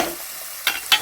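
Carrots and curry leaves frying in a pan while being stirred, with a low steady sizzle and two short bright scraping bursts near the end.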